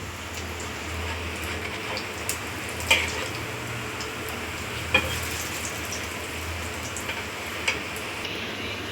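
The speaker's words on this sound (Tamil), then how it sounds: "இப்போ நல்லா ஃப்ரை ஆகட்டும்." Chicken cutlets frying in a pan of oil, a steady close sizzle and crackle with a few small sharp pops spaced irregularly throughout.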